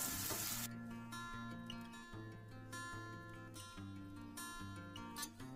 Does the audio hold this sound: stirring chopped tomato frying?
yes